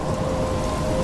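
Heavy rain hisses in a steady, dense wash with a low rumbling thunder undertone in the video game Life is Strange, a continuous loud storm with no voices.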